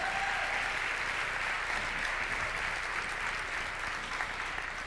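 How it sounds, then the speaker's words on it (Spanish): Audience applause at a talk, a continuous even wash of clapping at moderate distance that stays level throughout. "le mandamos un abrazo, un aplauso,"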